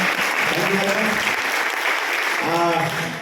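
Audience applause at an RCM business motivational talk, a dense steady wash of clapping filling the room, with a voice briefly talking over it near the start and again toward the end.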